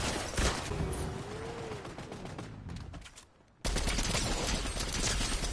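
Rapid automatic gunfire rattles through a shooter video game, dense bursts of shots filling most of the clip, dropping briefly to near quiet before another loud barrage kicks in.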